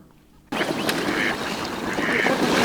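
Ducks quacking on a frozen winter lake in Vinnytsia (Vyshenske Lake), where swans gather among them; a dense, busy chorus of calls starts abruptly and continues steadily at close to moderate distance with no speech.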